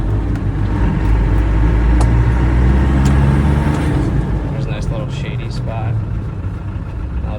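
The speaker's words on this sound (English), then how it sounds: "I'll just let it idle so you can hear it idle" A 1997 Land Rover Defender pickup idles: a steady, loud, low engine rumble fills the whole stretch, easing slightly toward the end, with a voice murmuring faintly in the background.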